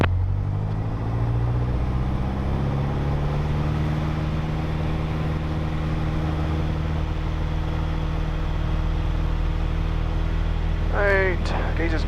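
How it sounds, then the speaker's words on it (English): A Piper Archer II light aircraft taxis toward the runway run-up area, its piston engine a steady low drone that holds close and loud throughout, with a brief higher tone near the end. "Diamond 588 Mike Tango taxiing to the runway 18 run-up area"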